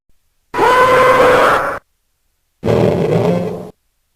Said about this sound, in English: The Hell Knight gives off demonic sounds.